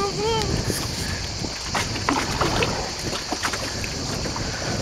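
A small fishing boat engine runs with a constant broadband rumble at sea during octopus fishing, mixed with wind noise and splashes, with voices faintly in the background.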